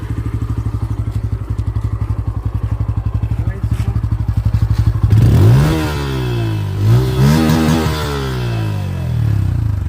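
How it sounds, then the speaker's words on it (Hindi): A Bajaj Pulsar N160 motorcycle idles with a steady rapid exhaust thump, then revs hard several times in rising and falling sweeps, loud and close. "भाई पल्सर की एग्जॉस्ट नोट सुनाते हैं।"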